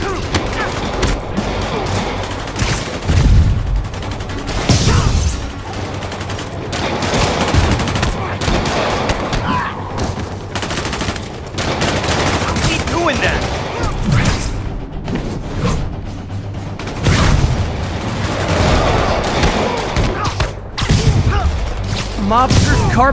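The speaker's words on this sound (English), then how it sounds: "Shoot him down already." Gunfire in Marvel's Spider-Man Remastered, with near-continuous volleys of shots and heavy booms rolling on loudly under game voices and action sounds.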